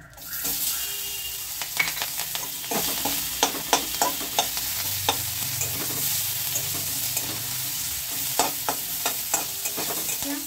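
Steady oily sizzle of chopped onion and white cumin frying, with a spatula scraping and tapping the pan in irregular strokes throughout.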